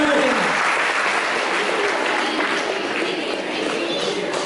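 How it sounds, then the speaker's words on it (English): A school Mathematics Day crowd applauds a winning quiz team, with steady, loud clapping across the whole stretch and a voice briefly heard at the start. "A huge round of applause for Team 2."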